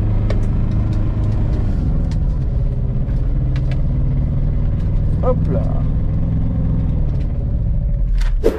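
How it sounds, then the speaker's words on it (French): A new Aixam Minauto microcar's small engine rumbles steadily as the car pulls away and drives, heard from inside the cabin, with a brief spoken word over it. "la voiture part très bien, le moteur s'excite"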